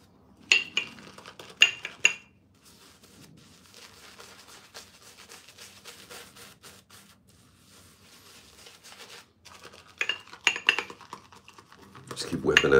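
Proraso eucalyptus shaving cream is whipped with quick, soft wet clicks and brushy patter. Louder bursts come at the start and end, with quieter steady whipping in between.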